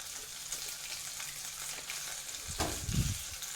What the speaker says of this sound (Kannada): ಈ ಹುಣಸೆ ನೀರನ್ನು ಒಗ್ಗರಣೆಗೆ ಹಾಕಬೇಕು